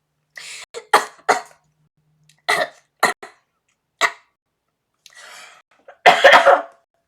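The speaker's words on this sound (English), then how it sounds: "I'm coughing." A series of sharp coughs in uneven bursts, some single and some clustered, close to the microphone, ending in a louder, rougher fit.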